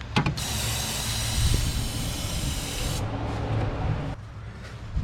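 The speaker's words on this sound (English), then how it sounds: "get myself another can of brake clean with the nozzle or straw that they send with it" Aerosol brake cleaner sprayed through a straw nozzle around the valve cover gasket of a Subaru Tribeca, a loud close continuous hiss with a short pause near the start and a cutoff before the end.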